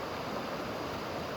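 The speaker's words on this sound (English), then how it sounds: "the sound of the water" Outdoor water near trees and greenery makes a soft, continuous rushing hiss. It is even and unbroken, with no talking over it.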